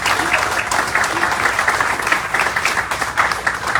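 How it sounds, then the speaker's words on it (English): An audience of port employees claps at an opening ceremony, a dense, even wash of applause sustained throughout with no voices breaking through. "Give yourselves a round of applause"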